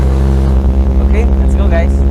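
Porsche 991.2 GT3 RS idling with its exhaust valves closed, a low, steady rumble with a smooth hum, heard up close with a voice speaking over it.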